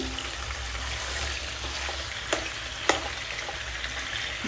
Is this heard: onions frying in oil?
yes